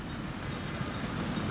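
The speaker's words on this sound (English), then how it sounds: "That's a train." Train rolling past in the Soviet-era city-building game Workers & Resources: Soviet Republic, a steady loud low rumble of rail wagons filling the whole moment with no talk over it.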